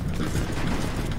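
A weapon being reloaded in The Division, a dense mechanical clatter and ratcheting that runs steadily under a busy game soundscape.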